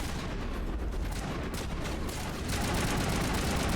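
Rapid bursts of gunfire from a shotgun and other weapons in the sci-fi video game Mass Effect, a dense crackling barrage at moderate volume that grows busier toward the end.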